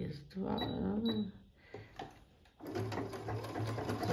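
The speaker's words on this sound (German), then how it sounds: "Die Nähmaschine macht meistens alles von alleine." A Brother Innov-is 150 SE sewing machine runs steadily, its motor humming with a fast, even needle clatter. Louder stitching runs resume after a brief pause.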